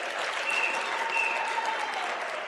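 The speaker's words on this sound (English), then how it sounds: "she deserves a round of applause." Steady, dense applause from an audience at a Women's Day commemoration seminar, a continuous wash of clapping heard from a moderate distance, with no pauses.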